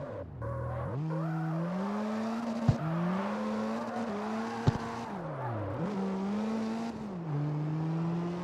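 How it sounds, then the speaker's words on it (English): Squeaky brakes on a car in a racing video game, over a steady engine drone whose pitch rises and falls with a few sharp clicks, with no talking. "Brakes sound a little squeaky, huh?"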